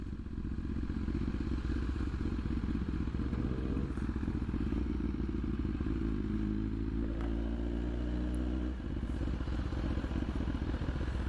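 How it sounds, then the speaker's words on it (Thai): A sport motorcycle engine rumbles steadily with a deep, loud exhaust roar, revving briefly partway through amid light clattering. "เสียงท่อมันลั่นจริงครับ"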